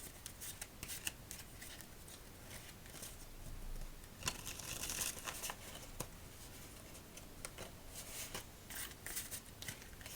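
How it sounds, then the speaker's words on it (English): A deck of playing cards is shuffled close up and quietly, with crisp riffling flutters and light taps repeating over several seconds in a hushed setting. "So let's shuffle till it feels good."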